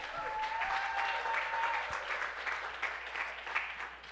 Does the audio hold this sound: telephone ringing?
no